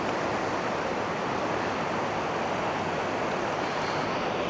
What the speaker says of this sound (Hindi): ये जा रहा है कटोरा से निकल के सारा